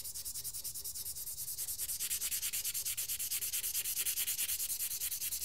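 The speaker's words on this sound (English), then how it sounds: "I'm going to take my pencil and just rub. I'm making a rubbing." Pencil rubbing steadily back and forth over paper to transfer a drawing onto a printmaking block, a rapid, even scratchy stroke rhythm repeating throughout, fairly close and alone.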